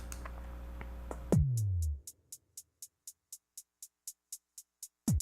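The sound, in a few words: one measure of hi-hat drum loop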